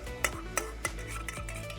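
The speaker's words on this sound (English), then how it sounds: "I'm going to give that a bit of a stir" A spoon stirs syrup in a cooking pot, with four or five sharp scraping clinks against the metal at a steady pace, close and clear over a low kitchen hum.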